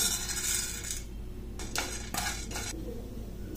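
Dry chana dal and urad dal pour into a kadai, a hiss of rattling grains followed by several sharp clinks of a utensil against the pan, close and moderately loud.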